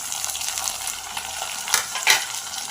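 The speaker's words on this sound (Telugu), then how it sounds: "ఇప్పుడు 3 టమాటాలు, మీడియం సైజ్ టమాటాలు కడిగి తరిగి పెట్టుకున్నాను" Three chopped medium tomatoes drop into a hot tempering for tomato rasam, giving a quiet steady sizzle with a couple of brief sharper hisses and stirring scrapes, no talking.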